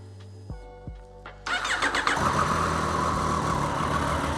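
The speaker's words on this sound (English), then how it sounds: "We will start the engine, leave it for 5 minutes to idle" A Triumph Street Triple 765R motorcycle engine cranks on the starter in a few short pulses, then catches and settles into a loud, steady idle that runs to the end.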